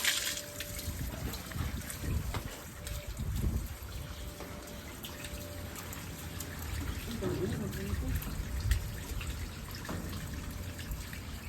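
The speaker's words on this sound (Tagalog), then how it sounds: "Draining tubig, madumi." Dirty water rushes and trickles as it drains from a water tank, a steady splashing flow with occasional gurgles, while people talk nearby.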